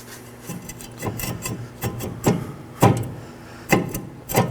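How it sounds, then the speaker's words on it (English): A brake rotor on a Chevrolet Equinox is worked off the wheel hub with repeated scraping, grinding metal rubs, about eight uneven strokes close by, loud and rasping with no talk. "Now let's remove our rotor."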